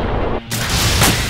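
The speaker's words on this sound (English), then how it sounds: "Wait for that artillery boom." Artillery fire in the military shooter Arma, a loud, broad booming blast that cuts out briefly and then returns as a sustained rumbling roar.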